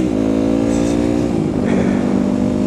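A motorcycle engine idles loudly up close, its pitch wavering slightly as the throttle blips without a big rev-up.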